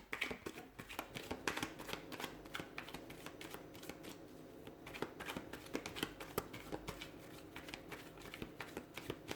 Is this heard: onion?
no